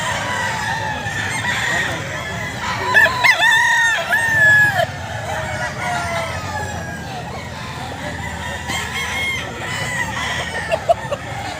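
A Sweater-breed gamefowl rooster crows loudly nearby at Grotto Pet Market, a strained call rising over a busy background of people talking and general market bustle.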